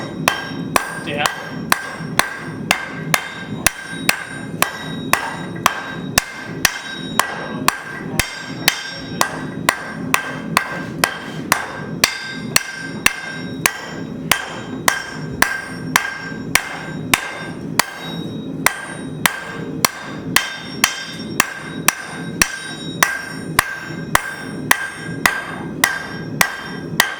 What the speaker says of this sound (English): Notice when my hammer blows start to slow down